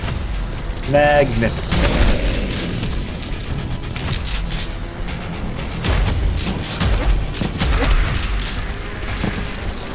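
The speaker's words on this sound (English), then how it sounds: "Let's see how all these exploding barrels work." Exploding barrels blow up in Brutal Doom, a modded first-person shooter, with heavy booms and mechanical clatter layered over dense game noise, while someone talks over the action.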